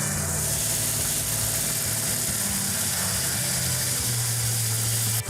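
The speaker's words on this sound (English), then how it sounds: "That's a good idle right there for right now." Original 1968 Dodge Charger R/T with a freshly broken-in cam idling slightly high, a loud close steady mechanical idle with a ticking, ratchet-like chatter, heard alone.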